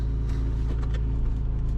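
A flood-damaged BMW Z3 M Coupe with its S54 engine idles as a low, steady rumble that stays close and even throughout, with no voices heard.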